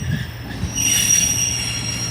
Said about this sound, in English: Onto platform 6 is a terminating Pacer, a terminating northern service from Manchester to Piccadilly